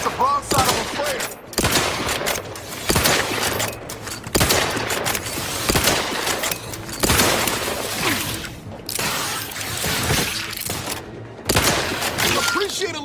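Gunfire rattling through a firefight in The Outer Worlds, with repeated loud bursts and volleys plus sharp impacts and shattering hits across the whole stretch, while voices speak over the shooting.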